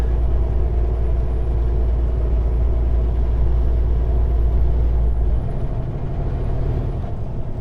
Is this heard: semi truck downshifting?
yes